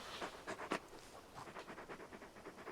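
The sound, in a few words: dog Torgal panting in the video game Final Fantasy 16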